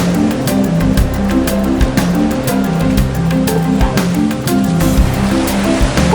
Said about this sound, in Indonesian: Pantai selatan Jawa memang tersohor akan keganasan ombaknya.